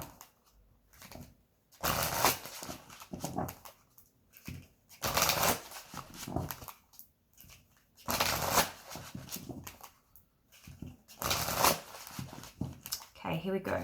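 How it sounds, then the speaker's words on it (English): A deck of tarot cards is shuffled in repeated bursts of riffling and sliding, close and fairly loud, with brief pauses between rounds and a voice talking around them. "I'm going to shuffle these cards here to see what you can expect this"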